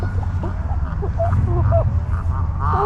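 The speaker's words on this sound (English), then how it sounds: "Carl's chasing the geese." Geese honk repeatedly as they are chased on the Erie Canal, short nasal calls scattered over a steady low engine-like rumble, with a denser burst of honking at the end.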